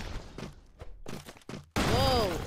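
Gunfire and thudding explosions in the retro action game Broforce, rapid bursts and impacts ending in a loud sustained blast with a descending whine, mixed with talking.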